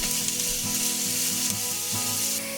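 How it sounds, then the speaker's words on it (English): Leeks and shallots sweating in a pot, a steady close sizzle with brief stirring scrapes and no talking. "add the leeks. Allow the leeks to sweat a little bit,"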